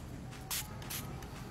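Unscented mosquito repellent sprayed from a bottle, two short quiet hissing bursts about half a second apart with a faint third puff, close to the microphone.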